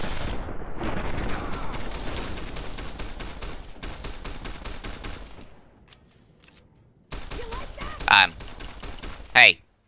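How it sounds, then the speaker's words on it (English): Sustained rapid gunfire from the Fallout New Vegas video game rattles on for several seconds, fades out, and then resumes with a few sharp louder shots, heard up close with some voice underneath. "Gonna shoot your gun."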